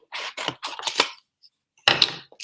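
Scissors snip through index cards to cut them in half, giving a run of quick crisp cuts close up, then a short pause and another sharp cut burst.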